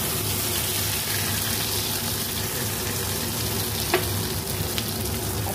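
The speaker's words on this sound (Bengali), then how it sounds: "শুকনো লঙ্কা তেজপাতা দিয়ে দিয়েছি কড়াইতে। এখন ওই মশলার পেস্টটা দিয়ে দিচ্ছি।" Spice paste frying in a wok with dried red chilli and bay leaves for niramish dhokar dalna gives a steady, close sizzle, with a couple of soft clinks near the end.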